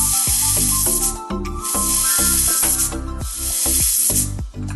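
A pressure cooker full of mutton hisses loudly with steam as its whistle vents, a strong, continuous spray close by, pulsing with each release.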